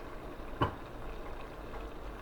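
Food sautés in a pan on the stove with a soft, steady sizzle and one brief clink near the start, faint and even, with no talking.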